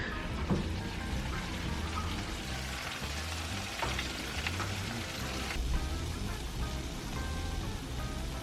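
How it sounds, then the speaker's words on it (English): Faint, continuous crackling sizzle of chicken thighs cooking in a preheated oven, a dense hiss of tiny pops with a low hum underneath. "You can hear that sizzle."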